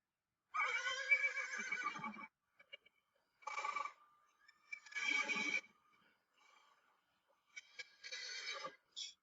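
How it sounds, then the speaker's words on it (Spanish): A horse neighs several times in long, shaky whinnies separated by silences, clear and close, with a few faint hoof-like clicks between. "Muy bien, el caballo."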